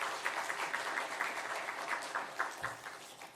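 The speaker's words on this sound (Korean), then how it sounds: "박수로 우리 한번 감사 인사하겠습니다." A church congregation applauds during a revival festival service, with quiet, moderately dense clapping from the seated crowd that continues evenly for a few seconds, heard from a distance.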